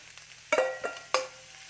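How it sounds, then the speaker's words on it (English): Lion's mane mushrooms dropped into a hot skillet for crab cakes: three quick sizzling hits as pieces land in the pan, close and crisp over a faint low hum, with no talking. "So we're going to add the mushrooms into the skillet."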